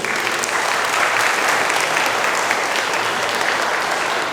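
Loud, sustained applause from a large audience at a dharma-sharing motivational talk in Indonesia, a dense even roar of clapping that holds for the full few seconds.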